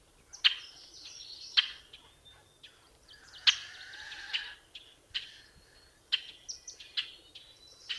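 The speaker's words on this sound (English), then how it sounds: "but this is a rusty blackbird." Rusty blackbird singing, a series of sharp, squeaky creaking notes repeated at irregular intervals, each a brief bright burst over faint background, with some thinner whistled tones between.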